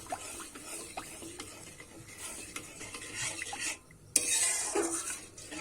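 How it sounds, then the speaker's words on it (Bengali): A spoon stirs and scrapes through grated carrot mixed with water in a metal pan, with soft irregular clinks and scraping strokes close up, and a louder clatter near the end. "এবারে কিন্তু এখান থেকে জল দিয়ে দেব নিয়ে কিন্তু ভালো করে সবকিছু মিশিয়ে নেবো"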